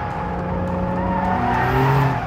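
A 2022 Porsche 911 GTS with 480 horsepower revs hard on a race circuit in Sport Plus mode, its engine note climbing steadily. The engine is loud and close, with a tire squeal near the end.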